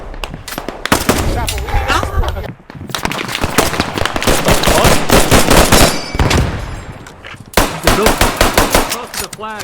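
Dense video game gunfire, rapid automatic bursts and loud shots crackling almost without pause and mixed with voices, all close and heavy.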